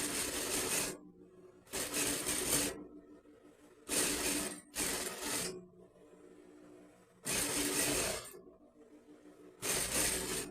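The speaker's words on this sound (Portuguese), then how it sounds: "E eu vou fazer outra carreirinha de costura, meio centímetro abaixo desta" A sewing machine stitches a seam on fabric for a crochet-and-fabric dress in repeated bursts of whirring, each lasting about a second with short pauses between, close and steady with no talking.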